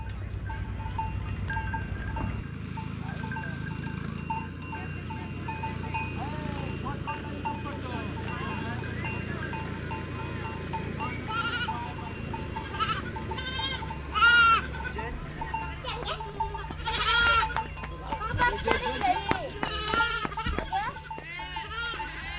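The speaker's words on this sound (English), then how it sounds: "the tinkle of goat bells" Goats bleat in a rural Indian village, with goat bells tinkling in a pastoral setting. The calls come in a few distinct bursts over steady background noise, and a voice talks throughout.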